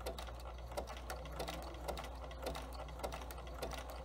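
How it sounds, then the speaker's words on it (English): A sewing machine runs a zigzag stitch over dental floss, its needle clattering in a steady rapid mechanical rhythm with a constant low motor hum underneath, fairly quiet and close with no talking. "stitch using the zigzag stitch"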